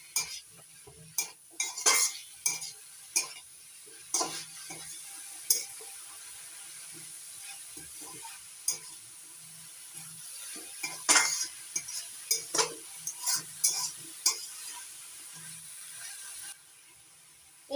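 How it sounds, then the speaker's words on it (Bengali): Drumstick leaves being stirred with boiled jackfruit seeds in a pan, giving repeated scraping and clinking of a utensil against the metal in irregular strokes over a faint sizzle, close and clear with no voices. "শাকগুলো এবার নাড়াচাড়া করে মিশিয়ে নিচ্ছি।"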